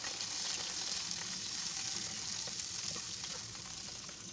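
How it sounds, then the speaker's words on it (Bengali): Pieces of katla fish fry in oil in a pan, a steady, close sizzle and crackle that continues without pause and eases slightly near the end. "এক সাইডে মাছগুলো কিন্তু আমি ভেজে নিচ্ছি"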